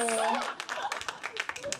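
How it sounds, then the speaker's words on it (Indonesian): Scattered, uneven handclaps from a studio audience at an Indonesian live talk show break out under lively voices talking over them, brief and fairly close. "Tepuk tangan semuanya."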